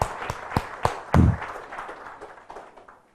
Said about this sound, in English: Wow, clap for Mr. Billu.